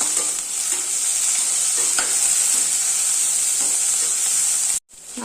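Ridge gourd chutney ingredients with tamarind frying in a pan, a loud continuous close sizzle with occasional stirring scrapes, cut off by a brief silence near the end.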